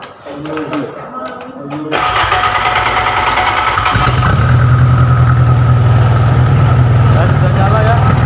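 An engine in a maintenance workshop is started and settles into a steady, loud idle with a rhythmic low chug, after brief voices and clatter at the start.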